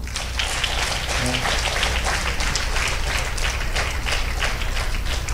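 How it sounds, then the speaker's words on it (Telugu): Loud, dense applause from a church congregation celebrating a couple's wedding, a continuous roar of many hands clapping at once that holds steady for several seconds with no talking over it. "బిడ్డల కోసము ఒకసారి గట్టిగా చప్పట్లు కొడదామా?"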